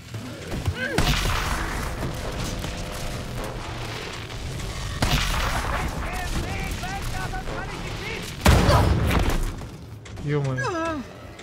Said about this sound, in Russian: Вот это какая-то плазменная пушка.